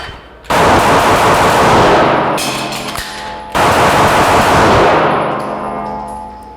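Pistol gunshots fired in a Double Bill shooting drill, two rapid bursts of close, very loud shots with a short pause between them, each followed by ringing decay.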